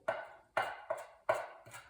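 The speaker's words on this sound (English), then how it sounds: "the way I was taught to make chimichurri, from an Argentinian by the way, is to chop it by hand" Carrot greens being chopped by hand with a knife for chimichurri: five sharp, evenly spaced strokes on a board, each with a brief ringing decay, close and fairly quiet with no talking.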